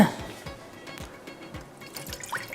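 Water is poured into a pan on the stove, about four glasses' worth, making a steady liquid trickle with soft drips and splashes, close and moderately loud.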